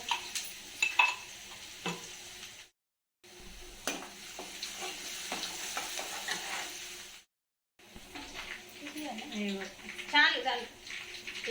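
Garlic paste fries and sizzles in a pan with mustard seeds while a spoon stirs and scrapes. A person talks over the cooking, and the audio cuts out briefly twice.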